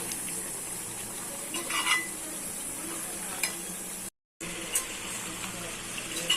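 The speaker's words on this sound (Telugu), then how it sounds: "ఒకసారి కర్రీ మొత్తం ఒకసారి కలిపేసుకుందాము" Village-style country chicken curry is stirred in a pot with homemade ghee, producing a soft, continuous scraping and bubbling sizzle with a few brief clinks and a momentary dropout.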